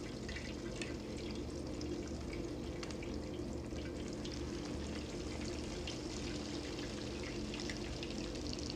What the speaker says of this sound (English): Now you know the oil's ready when you dip the chicken in. It sizzles.